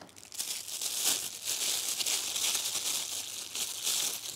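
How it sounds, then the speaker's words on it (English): Cellophane wrapping crinkled and pulled off a monocular case, a close, continuous crackling rustle that swells and stays dense for several seconds, with no talking. "And got a case wrapped in some cellophane."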